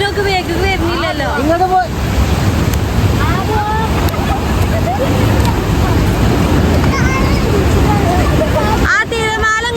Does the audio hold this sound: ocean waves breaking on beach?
yes